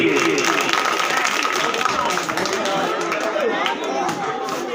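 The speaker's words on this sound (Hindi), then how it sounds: "ताली बजाओ एक बार एक पदी परिषद के लिए" Sustained applause from an audience at a Bhagwat katha religious gathering, dense steady clapping that fills the space and fades slightly toward the end, with voices mixed in.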